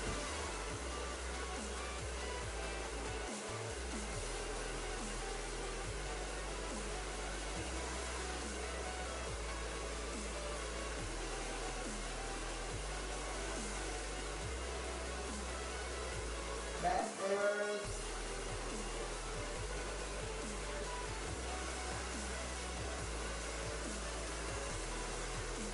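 A hair dryer on high speed and medium heat blows steadily throughout while hair is dried from the back, a loud continuous whoosh with a steady low hum and one brief dip near the end.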